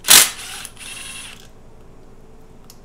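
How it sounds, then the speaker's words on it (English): A ratchet wrench loosens a bolt on a 1994–2007 Kawasaki KX125/KX250 two-stroke dirt bike engine during a rebuild, giving one sharp close click followed by a short, quieter mechanical rattle that fades out. "remove this bolt here."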